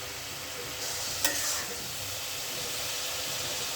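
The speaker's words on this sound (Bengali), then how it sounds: "এখন গাইস মশলাটা আমি কষে নিচ্ছি" A ginger, cumin and garlic spice paste frying in a pan gives a steady, close sizzle throughout, with a brief scrape of stirring near the start and no talking.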